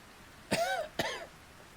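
A video game character gives two short, close coughs in quick succession, clear against a quiet background.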